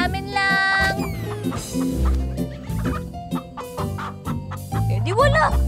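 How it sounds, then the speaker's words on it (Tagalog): Chickens cluck and squawk in a busy flock, mixed with other bird calls and a voice, loud and close throughout. "Sino may-ari ng manok?"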